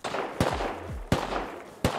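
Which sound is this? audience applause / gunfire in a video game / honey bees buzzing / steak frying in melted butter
gunfire in a video game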